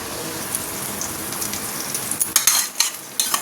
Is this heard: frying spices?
yes